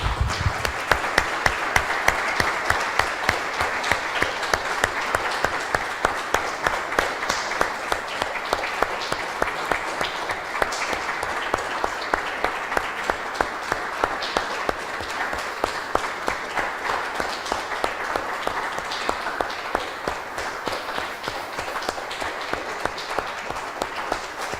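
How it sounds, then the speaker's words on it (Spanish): A church congregation applauds in a sustained, even burst of many hands clapping, dense and continuous for the whole stretch with no voices standing out. "Le damos un aplauso,"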